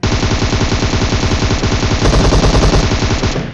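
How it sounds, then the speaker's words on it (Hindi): Rapid automatic gunfire in a mobile battle royale game during a solo-versus-solo match, loud and continuous with a tight rhythmic burst pattern filling the whole stretch, no speech. "एक बंदा जस्ट कूदा और फायरिंग करना स्टार्ट कर दिया"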